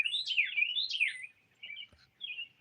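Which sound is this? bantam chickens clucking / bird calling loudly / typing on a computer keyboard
bird calling loudly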